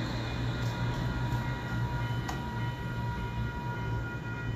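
ION light rail train running, a steady low rumbling drone with a continuous hum and faint clicks, heard from on board.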